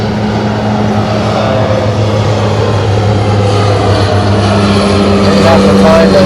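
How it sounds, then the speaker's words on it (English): A propeller airplane passes overhead as a loud, steady drone, continuous throughout and building slightly toward the end, mixed with nearby machine noise. "there's an airplane that's going to fly over top of us"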